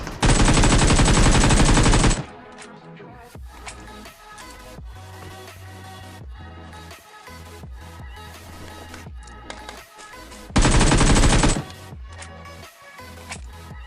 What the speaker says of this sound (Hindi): अब गाइस यहाँ पर मैं लूट कर रहा था कि तभी कोई सामने से फायरिंग करता है।